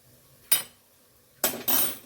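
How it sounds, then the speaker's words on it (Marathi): A spoon clinks against a pan while stirring yogurt into chickpea masala on a stove, with two or three short, close scraping clinks that stand alone without any talk. "आणि पटकन आपण हे मिक्स करून घ्यायचं"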